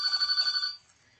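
An electronic telephone bell rings in a quick warbling burst for under a second in a quiet room, then stops.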